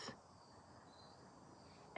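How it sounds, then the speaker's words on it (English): Crickets chirp in a quiet garden, a faint, steady high-pitched trill running the full length without voices, with a short louder noise at the start and end. "I don't know if you guys can hear the crickets and birdies."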